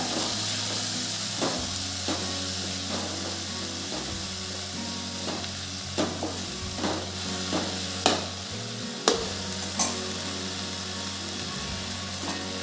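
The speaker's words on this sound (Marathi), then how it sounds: "कैरीचा की छान तेलात असं छान परतून घेऊ आपण गॅस कमीच ठेवायचा" Raw mango pieces sautéing in oil over a low gas flame for a tangy sabzi, a soft steady sizzle with repeated wooden spatula taps and scrapes growing louder toward the end.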